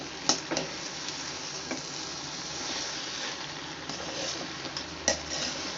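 Steady sizzling of chilli parotta frying in a vessel with occasional scraping clinks of a utensil stirring, no voices.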